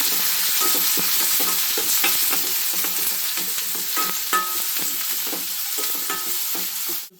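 Onion sizzling in hot oil in a pan for a traditional Karnataka huli gojju, with steady frying crackle and occasional stirring scrapes throughout, close and continuous.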